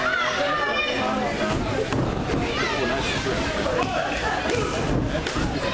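A video game wrestling arena crowd shouts and jeers in a dense, continuous roar, many voices calling out at once with steady loudness throughout.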